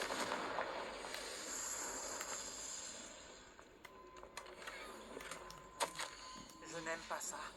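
A Confringo blasting spell fires in a Harry Potter video game, a series of faint crackling bursts and sharp pops following a spoken spell incantation.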